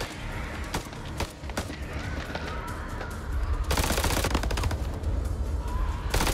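Sustained gunfire rattles through a firefight in House of Ashes, with scattered single shots giving way to a denser, louder automatic barrage over heavy ambient noise.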